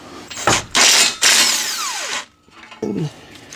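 A big impact wrench working on rusty exhaust bolts under a Lexus IS300, several loud short whirring bursts with a falling spin-down whine, close by, separated by brief pauses.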